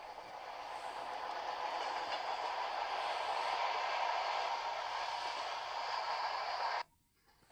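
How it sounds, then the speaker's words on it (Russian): An electric commuter train approaches with a steady, swelling rush and rumble that holds for several seconds, then cuts off abruptly. "вот электричка едет"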